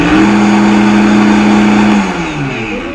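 Vitamix blender grinding rolled oats into flour, a loud steady motor whine at high speed for about two seconds, then winding down with a falling pitch.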